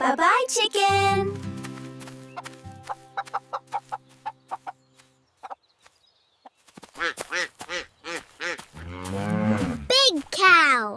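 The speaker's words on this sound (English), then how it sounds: "This is a cow." A cartoon cow moos in a kids' farm-animal cartoon, loud and close, among bright sung and spoken voices with barnyard calls mixed in.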